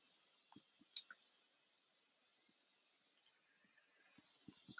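A single crisp computer mouse click lands near the start, clicking to create a new file, followed by a couple of faint soft taps in an otherwise quiet room.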